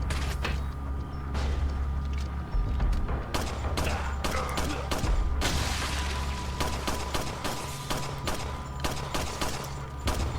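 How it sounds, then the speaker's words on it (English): Rapid gunfire from Resident Evil 4 cracks in dense, irregular volleys with booming low-end thumps, continuous and close for the whole stretch with no talking. "So many shots."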